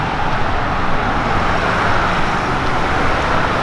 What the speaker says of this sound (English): it wouldn't be Kentucky without loud pickup trucks